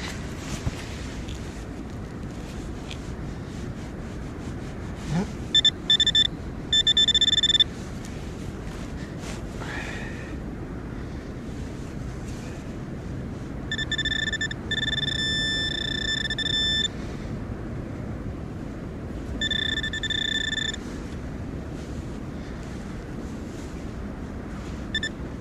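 Several short runs of high, steady electronic beeps from a metal detector sound in separate bursts over a low rumbling outdoor background with wind noise.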